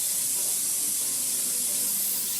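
Warm tap water runs over drained canned chickpeas at a kitchen sink, a steady, close, hissing rush that continues unbroken throughout with no voices.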